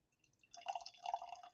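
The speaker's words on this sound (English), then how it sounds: "let's pour some Evan Williams into a Glencairn glass." Evan Williams Kentucky straight bourbon trickles into a Glencairn glass, a short liquid pour that starts softly and swells into a close, steady splash for about a second.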